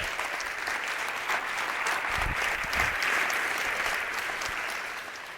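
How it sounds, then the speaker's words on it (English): Audience at a Women in Tech forum applauds steadily, a dense wash of clapping that swells slightly mid-way and holds at a moderate level for several seconds, with a brief cheer from someone. "So that deserves an applause."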